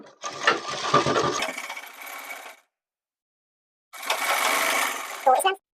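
A sewing machine runs in two bursts while a gents shirt sleeve seam is stitched, a loud mechanical whirr followed by a pause and a second run, the motor revving at the end.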